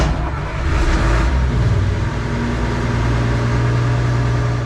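A hydraulic machine's engine starts and runs, a loud, steady low rumbling idle that holds evenly throughout, close and without talk.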